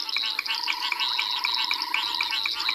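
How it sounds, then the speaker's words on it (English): A banded rubber frog calls at night at Tswalu in the Kalahari, giving a continuous high-pitched pulsed trill that repeats steadily and evenly throughout, fairly close and clear, with no voices. "There's that very high-pitched sound. That's that banded rubber frog I spoke about earlier."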